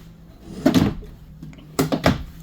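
Drawers in a 2021 Jayco Jay Flight 294QBS travel trailer slide open and shut with two sets of close, clattering bumps and thuds, the second pair quick in succession.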